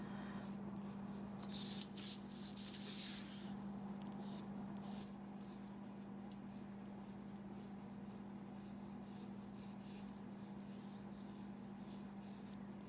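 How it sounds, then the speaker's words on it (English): Pencil scratching and rubbing across paper in short repeated strokes during an elementary art drawing lesson, quiet and close over a steady low hum. "Draw with your pencil first."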